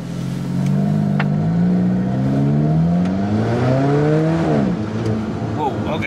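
An Alfa Romeo 4C in race mode and manual mode revs loudly, the engine note rising and falling in pitch as it climbs, close and steady for several seconds.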